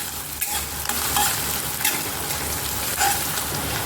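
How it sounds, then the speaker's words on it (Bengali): Green chillies frying in hot oil in a wok, a steady loud sizzle with the scrape of stirring now and then, no voices. "কাঁচা লঙ্কাটা দেওয়ার পরও আমি 1 মিনিট ভেজে নেব।"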